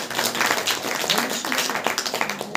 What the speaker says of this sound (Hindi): ताली बजाकर परमेश्वर को महिमा दीजिए